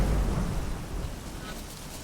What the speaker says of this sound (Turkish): Evet, yağmur geliyor.